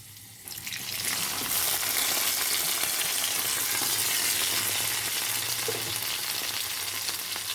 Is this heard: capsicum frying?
yes